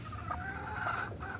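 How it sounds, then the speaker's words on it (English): A broody hen clucks steadily and close by in a backyard flock, with a low, continuous murmur of other fowl sounding underneath and no talking. "I have this broody bird here."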